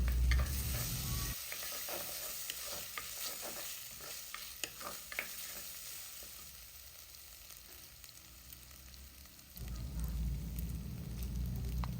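Cinnamon bark, pandan and curry leaves and dried chillies sizzle and crackle in hot oil for a Sri Lankan soya meat curry, with scattered stirring scrapes and pops, steady and close, no talking.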